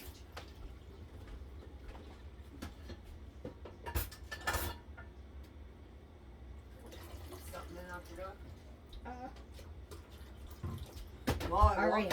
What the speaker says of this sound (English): I'll get some water going through the coffee pot